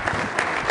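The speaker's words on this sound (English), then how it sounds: "let's give Greg a round of applause for his presentation" Short burst of audience applause at a Rotary Club of Denver luncheon, honoring a speaker after his presentation; steady, dense clapping, close and moderately loud, with no voices over it.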